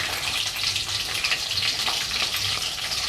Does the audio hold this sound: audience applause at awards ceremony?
no